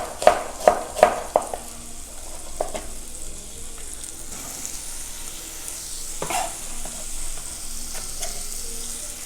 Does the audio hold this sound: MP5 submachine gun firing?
no